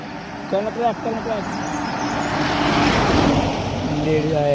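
A car passes on a mountain road on the route to Badrinath in Uttarakhand, its engine and tyre noise swelling and staying loud after a brief burst of nearby voices at the start.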